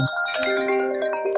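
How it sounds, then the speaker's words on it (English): A bright electronic chime rings out, a short run of clear sustained tones stepping in pitch, alone with no talking. "All right, that's the alarm."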